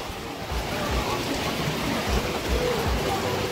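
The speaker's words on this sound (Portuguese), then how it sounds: "Chuva forte nesse momento" Heavy rain pours onto the Açude de Araras reservoir, a dense steady hiss of water with faint thumps of wind on the microphone and no clear voices.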